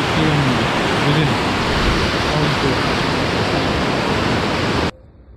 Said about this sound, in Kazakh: Mына жерде не бар екен? Кішігірім қалқама деген өзен.